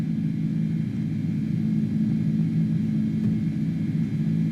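Airbus A310 airliner engines climb after takeoff in Microsoft Flight Simulator 2020 on Xbox Series S, a steady low droning rumble with a faint high whine, constant and unbroken, no voices.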